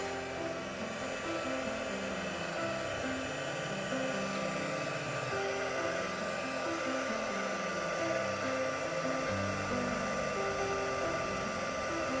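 A hair dryer runs steadily to dry a soft pastel painting, a continuous close whoosh of blown air with a low motor hum that lasts the whole time, alone and without talk.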